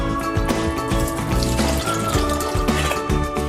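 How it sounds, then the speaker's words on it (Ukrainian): Steady rushing and splashing of water poured out of a pot of boiled potatoes, continuous, with faint clinks of the pot, close and fairly loud throughout. "Картопля вже готова повністю. Зливаємо воду"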